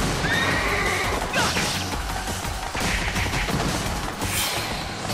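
Horse whinnies and hoofbeats in Samurai Warriors 4 gameplay, loud and continuous over a dense bed of battle crashes and clashing effects, with no talk.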